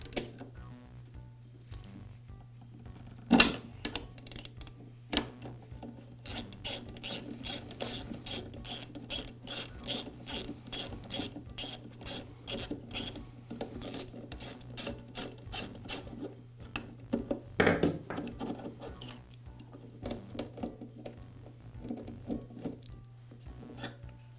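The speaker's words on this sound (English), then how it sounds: "use a socket wrench to remove the mow ball" Socket wrench removing the mow ball bolt from a Husqvarna trimmer: long runs of steady ratcheting clicks, close but fairly quiet, broken by a couple of sharp metallic knocks and a low hum underneath.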